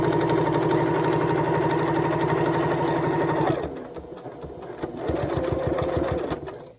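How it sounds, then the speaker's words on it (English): A sewing machine stitches a welt pocket, running fast and loud at first, then stopping briefly before starting again with slower, distinct stitches. "We'll sew in the same direction."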